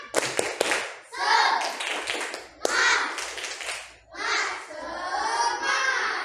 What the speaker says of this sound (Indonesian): tepuk tangan dulu untuk Risa biar lebih semangat.